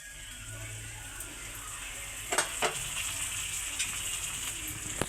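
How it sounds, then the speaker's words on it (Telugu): Punjabi-style okra masala gravy frying in a pan, a steady soft sizzle with a few louder spatters and stirring scrapes, close and fairly quiet, with no talk. "ఇది వేగినట్టు ఉన్నాయి. కొంచెం వేగాలి, కొంచెం వేగాలి."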